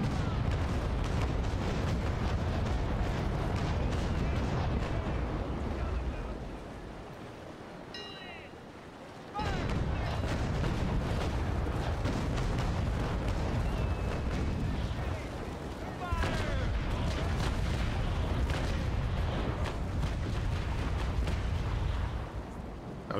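Naval cannon fire from sailing warships in the game Naval Action booms as dense, rumbling volleys against wind and sea noise, heavy and continuous with brief lulls, while a voice talks over it.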